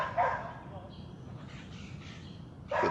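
A dog barks and yips once or twice near the start, then whimpers and yips softly amid background noise, followed by another short burst at the end.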